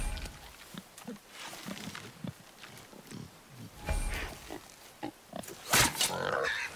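A wild boar in God of War grunts and snorts in short rough bursts, moderately close, with footsteps and other game sounds and some talking mixed in.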